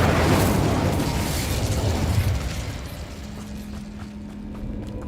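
Incendio fire spell cast in Hogwarts Legacy, a loud roaring burst of flame that rumbles for a few seconds and then fades into quieter crackling with a faint steady tone underneath.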